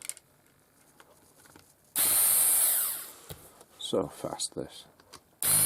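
A screwdriver removing screws from a Roberts Revival R250 radio, with a loud whirring burst, short rattling ratchet-like spurts and a final whir, a person speaking briefly between them.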